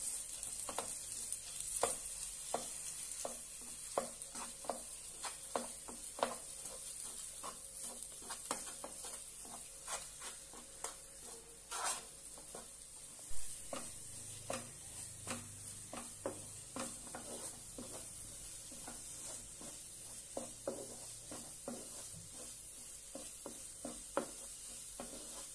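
Ground paneer modak filling being sautéed and stirred in a pan, a low continuous sizzle beneath repeated soft scraping strokes of a spatula, steady and close with no voices.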